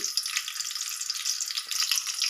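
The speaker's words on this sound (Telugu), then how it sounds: "ఆయిల్లో ఉల్లిపాయలు పచ్చిమిర్చి వేగనిస్తున్నాను బాగా వేగాలి" Onions and green chillies fry in hot oil for a mutton curry, making a dense, steady sizzle that stays close and even throughout.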